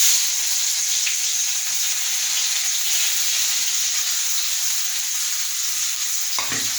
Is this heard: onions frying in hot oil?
yes